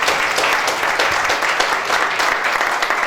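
A church congregation at a Sunday service applauds in a dense, loud, steady burst of clapping that fills the whole moment.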